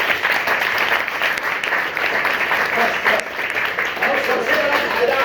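Schoolchildren at a school assembly clapping their hands together, a loud, dense burst of many small hands that stays close and sustained throughout.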